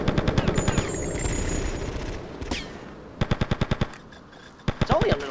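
Rapid machine-gun bursts from a firefight in GTA Vice City crackle in tight, evenly spaced volleys over a busy game soundscape, with a couple of separate bursts toward the end.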